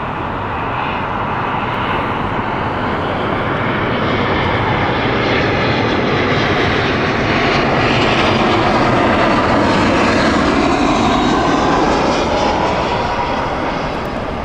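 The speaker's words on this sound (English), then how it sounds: "Milan flight here, Airbus A320" An Airbus A320 jet airliner comes in on approach at Heathrow Airport, its loud, broad engine roar swelling gradually, peaking near the end and then easing off, with no voices over it.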